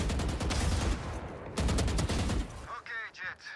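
Rapid automatic gunfire in the Valorant video game, shooting at practice bots: two loud sustained bursts of close shots, each about a second long, followed by sharp ringing ricochet tones.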